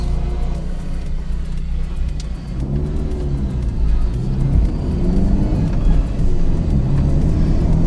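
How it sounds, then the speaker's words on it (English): Roadside mowers pass outside a moving vehicle on a road. Their whining engine drone rises and shifts over a steady low road-and-engine rumble, moderately loud, with no talking. "let me wait till we get past these mowers"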